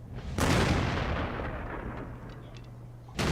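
A tank's main gun fires in World of Tanks, a loud booming blast that rings out and decays over a few seconds before a second shot bursts in at the end.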